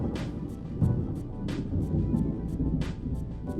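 A rainstorm with thunder: a low, continuous rumble sits under steady rain, broken by several brief, sharp splashes or crackles at irregular intervals.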